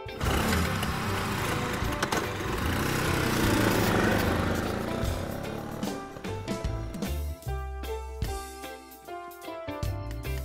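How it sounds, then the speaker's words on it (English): A scooter engine buzzes loudly for several seconds, then its drone thins into a sputtering idle with scattered clicks and knocks. "Scooter"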